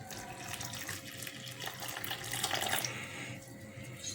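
Water pours in a steady, faint splashing stream over a few seconds, added to yeast for kneading dough for a traditional fried bread.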